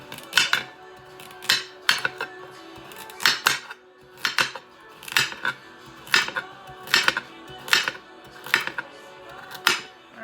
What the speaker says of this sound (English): And then we'll toss in the carrots.